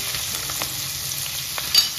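Whole spices frying in hot refined oil with a little butter, a steady close hiss of sizzling with faint crackles and a soft stir near the end.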